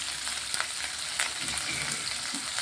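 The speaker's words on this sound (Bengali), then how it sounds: "আদা লঙ্কা সব মশলাটাকে একটু ভালোভাবে ভেজে নিচ্ছি" Steady crackling sizzle of ginger, chilli and spices frying in hot oil, with occasional soft stirring knocks.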